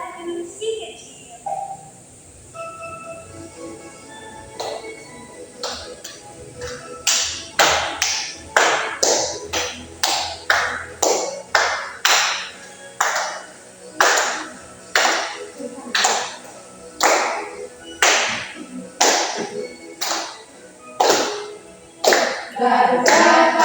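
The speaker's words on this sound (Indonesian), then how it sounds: "Sambil tepuk tangan ya." Children clap hands together in a steady regular beat while singing a patriotic song in a classroom, the claps loud and close, starting after a few seconds of quieter talk and continuing evenly to the end.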